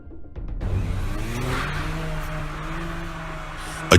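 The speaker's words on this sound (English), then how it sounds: "A drifting car veered dangerously toward the crowd." A drifting car revs hard near a watching crowd, its engine climbing and holding a loud, steady mid-pitched drone with tyre noise, followed by a sharp bang at the very end.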